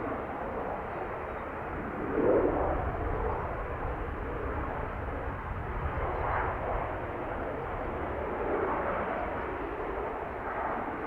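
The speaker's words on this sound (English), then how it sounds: "EI 164 A320 Neo, going to be heading to Heathrow" Aer Lingus A320neo lining up at Dublin Airport for a flight to Heathrow, its engines a steady, broad roar that swells slightly at a couple of points, with no clear talk over it.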